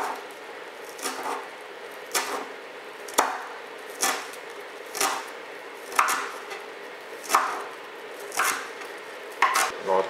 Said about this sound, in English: Now finely chop some chives.